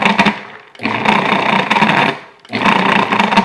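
A food processor pulses four garlic cloves, three loud, close bursts of motor whir with chopping clatter, separated by brief pauses.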